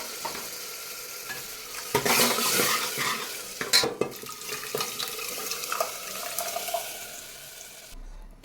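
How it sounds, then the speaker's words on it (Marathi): Cooked dal and spinach bhaji tipped into a hot tempering with fresh coriander, then stirred and scraped around the pan with a spoon over a steady sizzle, with a few sharper clinks and knocks partway through. "आता ही शिजवून घेतलेली डाळ पालकची भाजी घालायची आहे"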